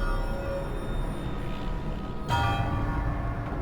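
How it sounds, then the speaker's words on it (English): A church tower bell rings in the video game Death Stranding, its sustained metallic tones hanging over a steady low game ambience, with one fresh, louder strike partway through that swells and lingers without any talk. "Well, the tower's ringing the bell."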